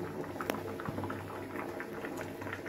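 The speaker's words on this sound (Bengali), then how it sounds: "খিচুড়ি ফুটে এসেছে" A pot of khichdi bubbles at a steady boil, a soft continuous burble with small pops and one brighter splash near the start, close and quiet with no voices.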